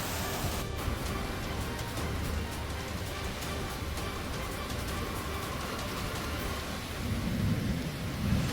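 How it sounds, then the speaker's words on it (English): A thunderstorm in Australia brings steady heavy rain hissing down, with deep rolling thunder rumbling beneath it throughout, loud and continuous, swelling slightly near the end. "Several videos circulating on social media can be seen showing the seconds when a storm hit a number of areas in Australia in the last few days."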